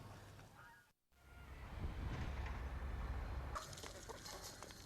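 Around four hundred laying hens and broiler chickens on a farm, giving a dense, continuous clucking and squawking din with a brief gap near the start and louder, harsher calls toward the end.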